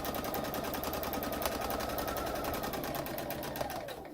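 A sewing machine stitches a fabric face mask with a fast, steady, rattling needle rhythm, close and continuous, slowing slightly at the very end.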